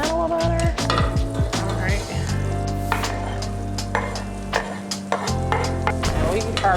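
Butter and shallots sizzle in grapeseed oil in a pan, a loud, steady frying hiss with frequent clinks and scrapes of a utensil stirring against the pan.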